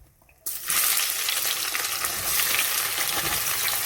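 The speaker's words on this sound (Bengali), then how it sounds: "পেঁয়াজ কুচি রেখেছি, পেঁয়াজটা দিয়ে দিচ্ছি।" Chopped onion dropped into hot oil in a pan, a sudden loud burst of sizzling frying after a brief quiet start that continues steadily and crackling throughout.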